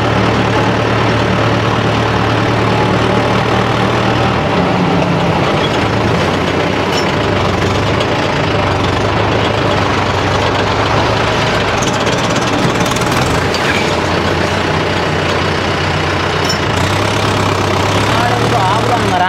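A Kubota harvester and a Mahindra 575 tractor run together during paddy harvesting and unloading, their engines giving a loud, steady, unbroken drone throughout with faint talk underneath.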